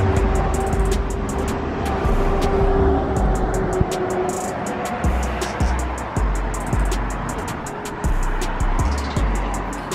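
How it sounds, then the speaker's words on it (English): McLaren sports car with big exhaust pipes, its engine rumbling nearby amid street traffic noise, with sharp clicks and knocks scattered throughout. "Check out this McLaren right here."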